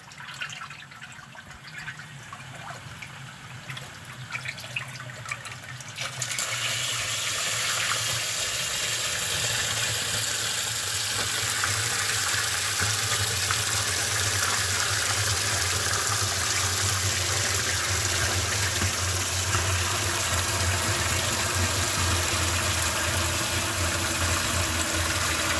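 Water drains steadily through a low head turbine under test with its turbine shorted, a low rumbling rush that swells into a loud, continuous broadband roar after the first few seconds and holds without a break.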